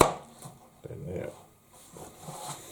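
A knife rough-chops vegetables for a winter soup, cutting them to roughly equal pieces on a board; a few uneven chopping strikes come through close by, mixed in with a person talking.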